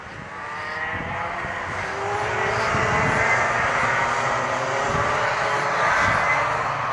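Loud, continuous whine and roar of a model Xjet jet aircraft engine as the plane takes off outdoors on a breezy day, swelling steadily in intensity and staying close throughout.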